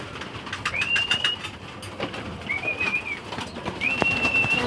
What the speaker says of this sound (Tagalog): Maganda talaga yung mga kalapati dito